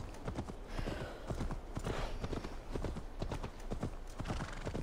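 Horse hooves clip-clop in a steady, unhurried rhythm in Assassin's Creed Valhalla, crisp repeated strikes at a moderate pace, fairly quiet overall with the game's ambient background beneath.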